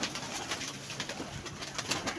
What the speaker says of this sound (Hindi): ये कुछ कबूतर हैं